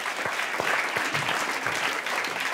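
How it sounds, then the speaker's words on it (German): Warm, steady audience applause for a volunteer called up on stage at a comedy show, continuous dense clapping from a crowd with no talking. "Bitte einen warmen Applaus für Martin"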